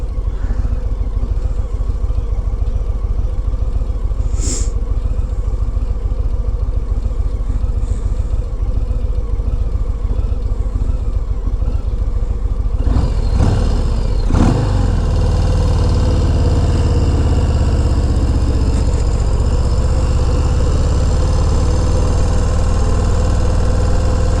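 A Harley-Davidson Low Rider S motorcycle engine idles loudly and steadily throughout, with a deep rumbling throb and a brief revving blip partway through.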